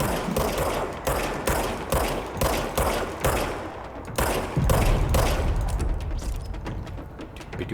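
Rapid gunfire from a weapon in the video game Control rattles out in a dense, loud, continuous stream of shots with only brief gaps between bursts.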